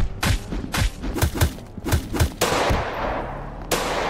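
Repeated gunshots in a Roblox hood game, with about eight sharp, loud bursts at uneven intervals. Denser, longer blasts follow near the end.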